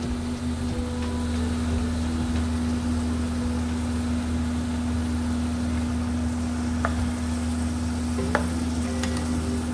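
Vegetables hit a hot pan of cooked-down tomatoes for vegetable biryani, giving a steady, continuous sizzle close by with faint stirring clicks over a low constant hum, no talk.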